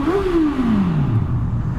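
A Honda CB650F motorcycle engine revs and then winds down in a falling pitch as the bike passes under a bridge, a close, steady mechanical drone with no talk.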